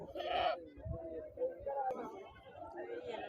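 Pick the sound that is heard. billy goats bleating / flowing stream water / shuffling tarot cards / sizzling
billy goats bleating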